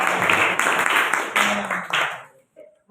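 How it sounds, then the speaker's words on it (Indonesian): A classroom of students claps for a classmate, a short burst of lively applause that fades out after about two seconds, leaving near silence. "Terima kasih tepuk tangan untuk Mas Fatir"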